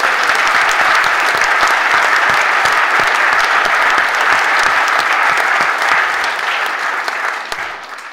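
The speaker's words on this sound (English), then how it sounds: "A round of applause there." A dense, sustained burst of audience applause at a Brooklands evening event with motorcycle racer Ian Hutchinson, loud and close, holding steady before tapering off at the end.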